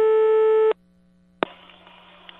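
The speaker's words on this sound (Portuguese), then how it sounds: "Vamos ligar de novo pra Tonhão, que ela tá braba." A steady telephone tone sounds for under a second during a prank call, then cuts off; after a pause a click and a faint hissy line noise follow.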